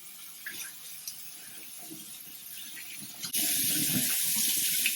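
Hot water from a bathroom tap gushes into a sink for washcloth warming, preceded by faint handling noise and then a sudden steady loud rush that continues to the end.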